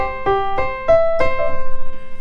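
Keyboard broken-chord exercise through inversions, played without the third: single notes struck one after another in a clear, close, unhurried sequence, the last note ringing on with no talking.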